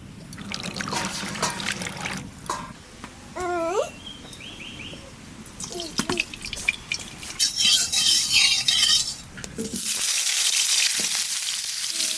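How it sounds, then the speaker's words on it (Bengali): Water poured off boiled jackfruit seeds in a kitchen, trickling and splashing in uneven bursts, followed by rinsing with running, gushing water that grows broader and steadier toward the end. "এবারে জলটা ফেলে দিয়ে আর একবার ধুয়ে নেবো"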